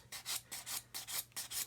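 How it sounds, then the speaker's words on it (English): Coarse 100–150 grit sanding stick rubbed over filler on a plastic model kit nacelle, making six or so rhythmic rasping strokes, close and fairly quiet, with no talking. "just basically going to sand the filler away"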